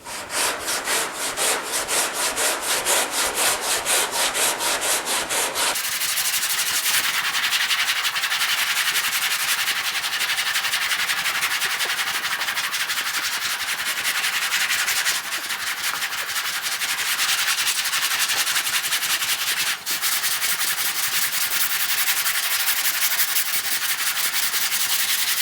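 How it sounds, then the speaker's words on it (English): A long sanding block with 60 grit sandpaper scrapes body filler on a Pontiac GTO restomod in steady back-and-forth strokes. The rasping is continuous and close, with a sharper stretch at first and no talking. "we're going to hit it with a little bit longer block with some 60 grit just to knock the tops off"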